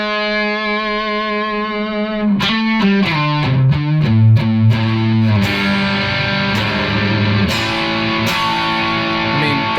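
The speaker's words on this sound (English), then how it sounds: "That's a genuine gain sound right there." Electric guitar with single-coil pickups driven through a gain pedal into a fuzz tone: a sustained distorted chord, then a run of choppy, rhythmic strummed stabs and ringing overdriven notes, loud and close with no talking.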